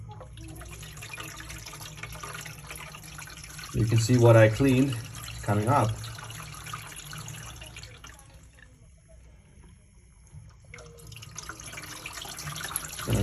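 Water gurgles and splashes briefly into a tank through an opened valve under the tank, a short burst of flow heard under a man's speech amid quiet room noise.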